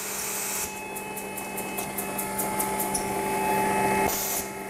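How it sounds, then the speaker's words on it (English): A Bagel Systems Digifav B2 foil machine applies foil to sheets printed with black toner, giving a steady motor drone with sustained tones and a rapid series of regular high ticks as paper feeds through. "I have sheets here with black toner going into the machine. The foil's being applied."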